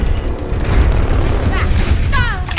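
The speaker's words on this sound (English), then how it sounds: "Rocket barrage incoming." Overwatch match on Temple of Anubis: Pharah's rocket barrage pounds out a dense, continuous run of booming explosions, loud and close, under overlapping team voice chat and game effects.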